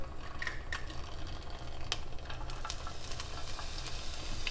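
Thinly sliced onions go into a hot pan for refried beans, a soft continuous sizzle with low rumbling and scattered crackles and clicks, close but fairly quiet.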